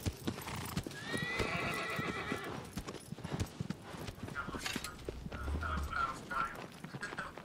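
A horse in the PS4 Shadow of the Colossus video game: rhythmic hoofbeats clop close and clear, with a high whinny near the start and soft voices murmuring underneath.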